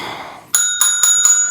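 A bright, ringing bell is struck four times in quick succession, loud and close, after a short stretch of muffled background noise.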